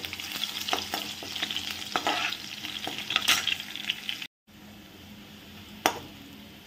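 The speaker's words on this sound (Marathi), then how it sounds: "लसूण छान फ्राय झाला।" Crushed garlic sizzles in hot oil in a home kitchen pan, stirred with scraping strokes and occasional clinks, briefly cutting out before the frying resumes, close and moderately loud.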